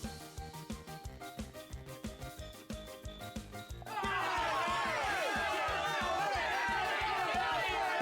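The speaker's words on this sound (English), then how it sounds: "Where the heck did this crowd come from now?" Crowd chatter fills a video game scene, a dense steady babble of many voices arriving abruptly midway, after a stretch of rhythmic game music with clipped voices.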